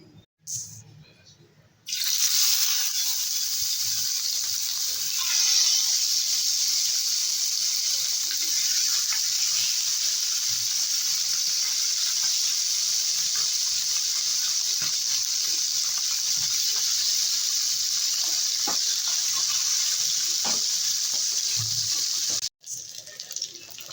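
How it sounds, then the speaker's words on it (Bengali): Fish frying in oil on a hot tawa, a steady broadband sizzle that starts abruptly after a quiet moment and holds loud and constant close by, with faint background movements. "আজকে আমি তাওয়াই করে মাছ ভাজবো তাওয়াটা গরম হয়ে গেছে দিয়ে দেবো তেল"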